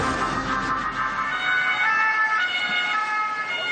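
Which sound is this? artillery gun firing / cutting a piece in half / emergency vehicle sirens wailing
emergency vehicle sirens wailing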